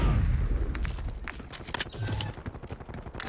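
Hostile gunfire in Call of Duty Black Ops 6 multiplayer, rapid bursts of automatic shots and sharp cracks, loud and close, with scattered impacts and footsteps between volleys.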